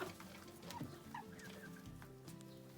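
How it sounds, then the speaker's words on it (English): Chickens cluck softly nearby in short, scattered calls with little else around. "Hey chickens!"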